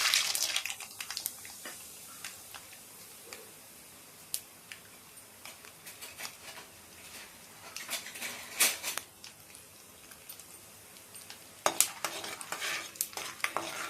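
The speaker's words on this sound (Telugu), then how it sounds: "ఎర్రగా దోరగా వేయించుకోవాలి" Peanuts fry and get stirred in a pan for poha, giving a soft continuous sizzle broken by frequent light scraping and rattling ticks, close and fairly quiet.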